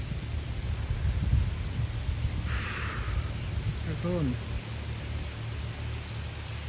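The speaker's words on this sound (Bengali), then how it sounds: "বৃষ্টি শুরু হয়ে গেছে" Rain begins falling outdoors near a large tree, a steady broadband hiss of drops that fills the scene, with a brief spoken word and a low rumble underneath.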